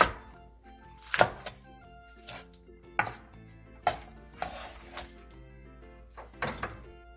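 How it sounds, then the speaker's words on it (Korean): A knife cuts a green onion into 3–4 cm lengths on a cutting board, giving about eight crisp, separate chops at a steady, unhurried pace over soft background music. "대파 한 개를 3에서 4cm 정도 길이로 통썰기 해주세요."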